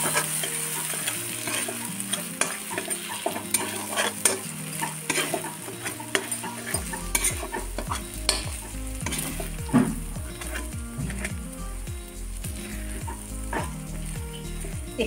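A green pea paste seasoned with turmeric and salt sizzles in hot oil with cumin in a pan, and a utensil scrapes and stirs through it in repeated strokes, up close and with no talking.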